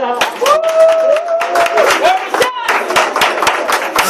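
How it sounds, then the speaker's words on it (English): Audience of famous photographers and press clapping at a fashion thank-you address, a dense burst of hand claps with a cheer and whistle-like tones rising over it. "Give yourselves a round of applause."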